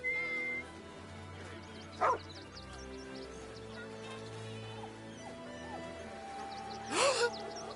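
A dog in a video game gives two short barks or yips several seconds apart, heard against a steady droning game backdrop with no speech.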